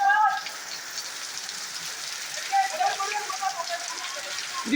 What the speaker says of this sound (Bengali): বাপরে বৃষ্টি দেখো খালি গাইস, এই বৃষ্টিতে, হ্যাঁ বৃষ্টি দেখো